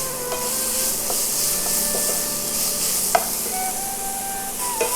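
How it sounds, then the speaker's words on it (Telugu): Beetroot frying in ghee in a pan, a soft continuous sizzle with scraping strokes of a spoon stirring, a few light knocks against the pan, close and steady with no voices. "బీట్రూట్ వేపుకుందాం"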